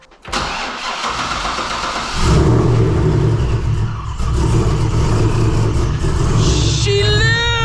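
A supercharged C6 Corvette engine cranks and catches, then settles into a loud, steady idle with revving close by, with a rising whine near the end.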